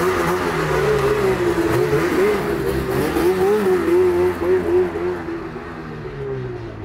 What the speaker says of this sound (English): It's so cool to hear all these loud old mod sleds roll in.